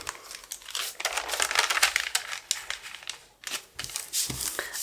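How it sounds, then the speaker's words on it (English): Paper pages torn by hand or along a tearing ruler for a junk journal, heard close up as a run of crisp crinkling and ripping bursts with short pauses between them. "then I will use my tearing ruler, or just by hand I will tear"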